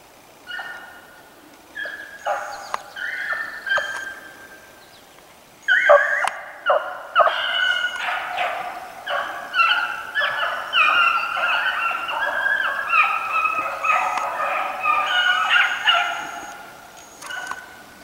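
Several hound pups on a snowshoe hare hunt bay and yelp in overlapping, high-pitched bursts, growing busier and more continuous after a brief quiet stretch near the start.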